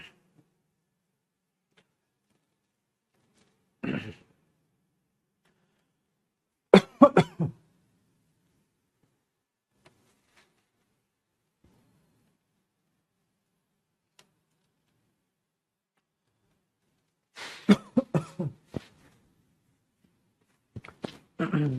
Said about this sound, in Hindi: आज खांसी हो गई।